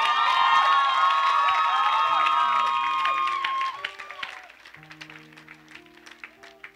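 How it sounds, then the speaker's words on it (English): Audience at a purity ring church ceremony breaking into loud applause and cheering with some whoops, strongest at first and then thinning into scattered clapping, with voices talking over it. "Can we give them a round of applause again?"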